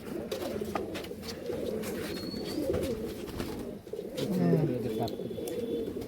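Pigeons coo in low, throaty bursts amid a steady clamor of birds, with a brief louder coo near the end; the birds are local Rajshahi and Pakistani flying pigeons.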